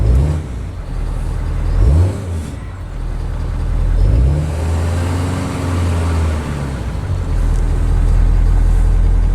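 A 2019 Ford F250 with the 6.7L diesel engine runs with a loud, deep rumble that swells and eases in a few gentle revs before settling into a steady heavy idle.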